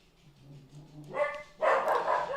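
A dog barks in a short burst of loud, close yaps that grow stronger toward the end, with a low murmur before the barking starts.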